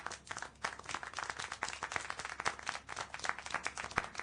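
Rapid clapping from several hands, dense and uneven, fairly faint and slightly distant, continuing for a few seconds without voices.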